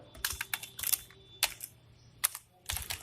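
Fingers typing code on a computer keyboard, bursts of crisp close key clicks in uneven clusters with short pauses between them, no voice over them.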